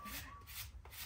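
Vegetables grated by hand for a chicken salad, a brief close rasping scrape repeated in quick strokes against a grater.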